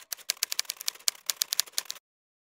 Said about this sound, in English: tap the shift button twice, type in your text, and then tap shift again to go back to normal